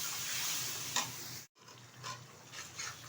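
Tomato paste with turmeric stirred and fried in a pan on high heat, a soft steady sizzle with scraping stir strokes, briefly cut to silence midway before the sizzling resumes.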